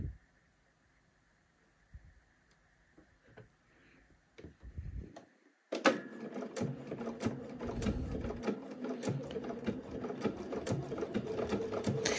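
A sewing machine runs a slow back-and-forth stretch stitch along a shoulder seam, starting after quiet handling noises and then chattering steadily and close at an even pace.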